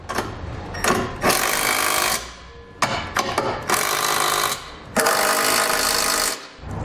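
A power tool tightens the hardware of a Curt trailer hitch receiver on a 2018 Ford Fiesta, running in several loud, close bursts of whirring and rattling with short pauses between them.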